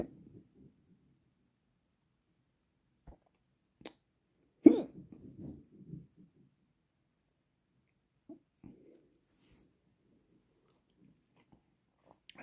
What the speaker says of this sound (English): Then you get the hiccups, call them the Zen ups.